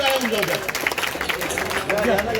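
Audience applause at a felicitation during the 151-year-old Pimprala chariot festival in Jalgaon, a steady crowd clapping texture with background voices and babble mixed in throughout.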